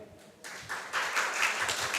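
An audience at a debate competition grand finale clapping for two young debaters, starting softly and swelling into steady, fairly distant applause.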